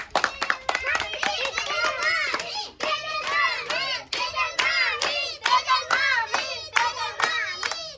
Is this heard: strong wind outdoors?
no